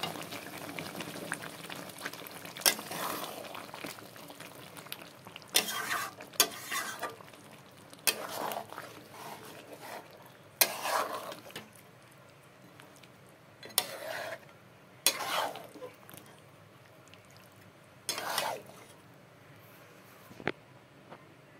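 Cooked chicken pulao being scooped and poured into a pot, with soft scraping, wet stirring and a steady simmering hiss, broken by several louder clattering bursts of the utensil against metal.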